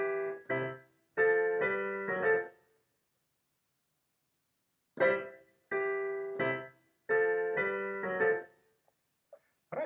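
Piano plays measures 3 and 4 of a video game theme as three short bursts of quick, staccato chords separated by silent pauses, close and clear with no voices.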